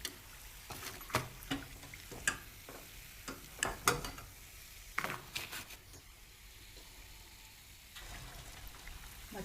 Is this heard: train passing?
no